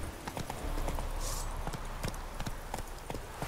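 Horse hooves clip-clop in The Witcher 3 video game, a quick steady run of sharp hoof strikes over a constant background hum, with no talking.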